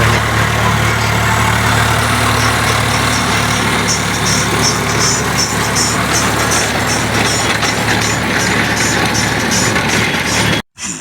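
A tractor plowing a field runs as a loud, steady engine drone, close and continuous, before cutting out abruptly near the end.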